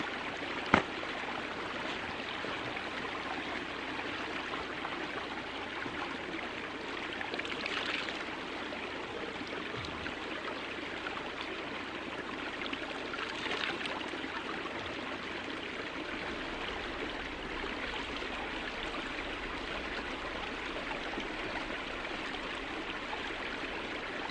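A small stream flows steadily beside a campsite, its broad, even water rush running alone and close throughout with no voices.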